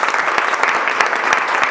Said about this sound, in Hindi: एक बार ताली बजाओ अपने घर वालों के लिए